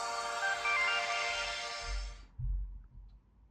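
LG Pop GD510 mobile phone startup tone while booting, a short bright melodic chime lasting about two seconds, then a few soft low handling thumps.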